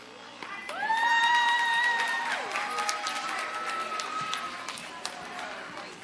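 A crowd at a children's school program cheers and applauds, with high children's shouts and whoops rising over a dense bed of clapping that swells early and then holds steady.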